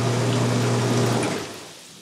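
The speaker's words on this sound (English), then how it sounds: "if you press the button in, as you can see, turns on the control box, water runs in" A Jacuzzi tub's jet pump and running water switch on together in a steady broadband rush with a low motor hum, then fade away near the end.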